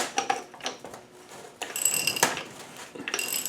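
Ratchet wrench tightening bolts on a Land Rover LT230 transfer box, giving several bursts of close, bright clicking separated by short pauses, with a louder run of clicks in the middle.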